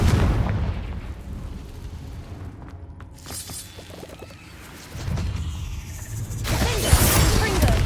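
A Confringo fire spell blasting in a cave in the game Hogwarts Legacy, a sharp shattering burst followed by a rumbling boom, then a second crackling, fiery impact after a few seconds.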